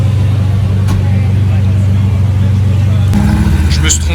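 A Ferrari 355 GTS sports car engine rumbles steadily at close range on a Monaco street, with a low, even drone that shifts in tone about three seconds in; voices seem to murmur underneath.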